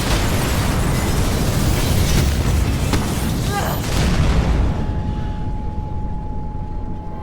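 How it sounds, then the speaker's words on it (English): A big explosion in the 2016 first-person action-adventure game Mirror's Edge Catalyst, a loud, broad boom and rumble that fills the opening seconds and then thins into a lingering tone and fading debris. "Big explosion over here!"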